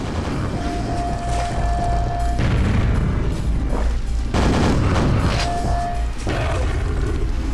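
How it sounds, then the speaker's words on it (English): Heavy, booming weapon fire in the 1996 shooter Quake, loud and continuous, with repeated punchy blasts and explosions layered over a dense roar and no talking. "Weapons all have a satisfying punch to them"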